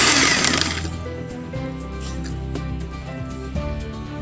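An electric hand mixer beats almond cake batter, a steady motor whir running throughout with a louder start and small bumps as the beaters knock the bowl.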